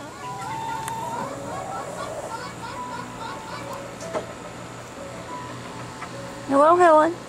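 Farm chickens cluck and murmur in the morning under a person's talking, ending in a loud, close burst of squawking calls.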